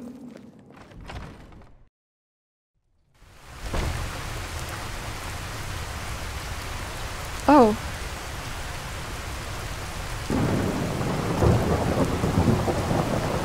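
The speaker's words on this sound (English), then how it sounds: "and also it's raining" Rain and rolling thunder in the Skyrim video game, a steady downpour washing across the whole stretch after a brief silent gap, with a sharp thunder crack partway through and the rain growing heavier near the end.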